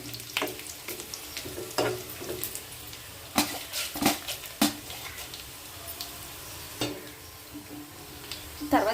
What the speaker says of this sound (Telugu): సిమ్లో పెట్టుకొని వేపుకుంటే అన్నీ కూడా చాలా బాగా వేగుతాయండి.